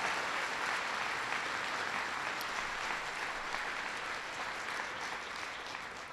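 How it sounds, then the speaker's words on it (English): Steady audience applause at a 2013 budget event with the President, a dense wash of clapping at moderate level that holds evenly throughout and tapers slightly at the end, with no voices over it. "I want to give them a big round of applause"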